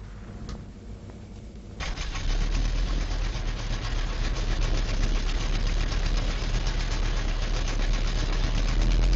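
The engine of a Saab B5 bomber aircraft starts up with a brief low turnover, then catches into a loud, steady roar that holds through the rest of the clip.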